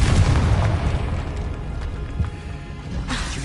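A Confringo fire spell explodes in Hogwarts Legacy, a loud, close booming blast at the start whose deep rumble decays over a few seconds, with a smaller burst near the end.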